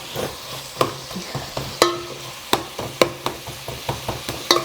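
Onions fry in a pan while a spatula stirs them, clicking sharply against the metal about ten times in an irregular rhythm. A low, steady sizzle runs underneath the taps.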